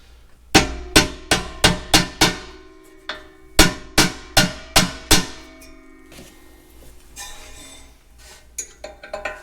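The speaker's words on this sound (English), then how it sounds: "Support the shaft so that we can drive the roll pin home." Hammer driving a roll pin into a throttle shaft on a prototype vehicle: two rapid series of sharp, ringing metallic strikes, about six each, then softer scattered taps and clinks.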